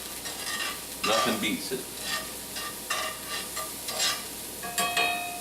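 Food sizzling and frying in olive oil in a cast iron pan while buffalo chicken stuffed mushrooms are made, a steady loud crackle with bursts of stirring, and a brief spoken remark over it.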